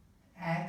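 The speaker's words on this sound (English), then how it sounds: "Take an inhale." A single audible inhale during a yoga flow, a short airy breath swelling in at close range after a near-silent moment.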